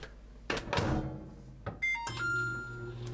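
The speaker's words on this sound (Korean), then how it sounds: "뚜껑 닫고 전자레인지 5분 익히세요" A couple of thunks as a microwave door shuts on a steamer of squash, then several button beeps and the oven starts humming steadily, close by.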